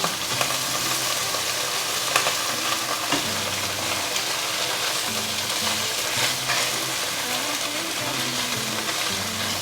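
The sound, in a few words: tofu pan-frying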